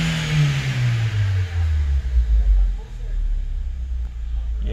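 A GM Astra car engine hums low and steady from inside the cabin, its tone sliding gradually downward, with a voice talking over it.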